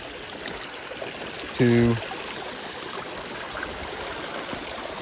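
A creek running high carries a steady, hissing wash of flowing water that continues throughout, with a short spoken word breaking in briefly over it.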